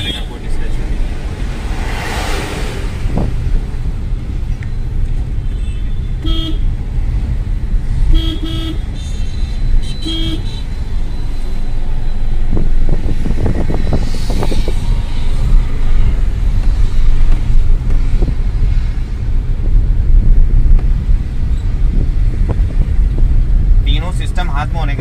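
Maruti Celerio fitted with hand controls driving through city traffic: a steady engine and road rumble inside the cabin, with horns tooting now and then from surrounding vehicles and someone talking over it.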